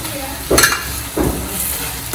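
Ginger tipped into a hot frying pan of softened tomato and turmeric for Tamil pepper chicken, giving two close bursts of sizzling and stirring over a steady hiss.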